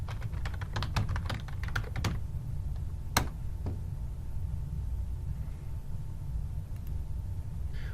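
Fingers type a web search on a computer keyboard in a quick burst of close clicking keystrokes, then a few isolated taps, followed by a steady background hum.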